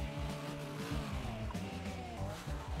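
A monster truck racing in the MMX Hill Climb video game, its engine droning steadily with tire squeal and skids layered over it, fairly quiet and without talk.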